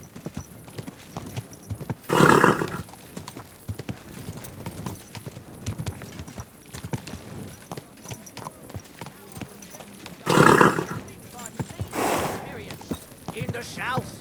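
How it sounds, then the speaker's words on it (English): Horse hooves clip-clop at a steady walking pace in Kingdom Come: Deliverance II, close and continuous, with louder bursts of activity at intervals and voices speaking over them. "Easy, good horse."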